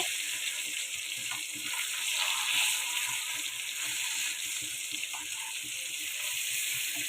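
Steady, soft sizzling and hissing of farsa fish frying in a pan for dopiaza, continuous with faint kitchen clatter underneath.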